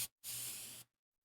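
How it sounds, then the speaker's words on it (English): Keyboard being sprayed out with a can of air in a video game scene, a short hiss burst followed by a longer steady spray of just over half a second, then silence. "Now I'm sitting here having to spray out my keyboard."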